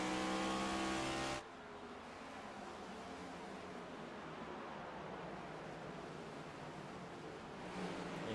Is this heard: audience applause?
no